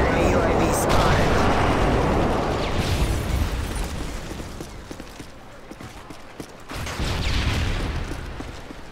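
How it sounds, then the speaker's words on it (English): Airstrike explosions rumble in Modern Warfare 3, a broad roaring blast fading out over several seconds, then a second burst of booming noise, loud and close. "Friendly airstrike on the way."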